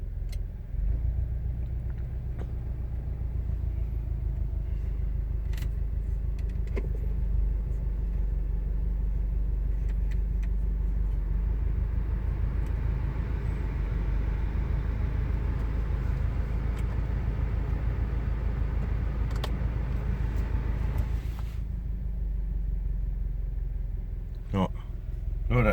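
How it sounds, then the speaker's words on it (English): A 2017–2018 Subaru WRX STI engine idles at a very low, steady speed, a continuous deep rumble with faint rattling, heard close up and alone for the whole stretch. "This is the absolute lowest possible conceivable idle speed for this car."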